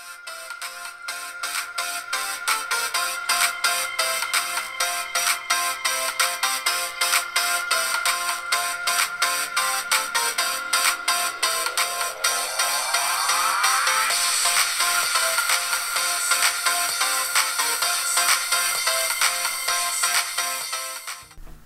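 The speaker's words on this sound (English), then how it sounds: "to give you a rough idea of how the iPod Touch speaker performs, just go ahead and take a listen to it in action" Built-in speaker of a 2015 Apple iPod Touch 6th generation plays a tonal, ringtone-like electronic melody with steady repeating notes and a rising sweep, loud and continuous throughout with no talking.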